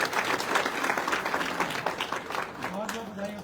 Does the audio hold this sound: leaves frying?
no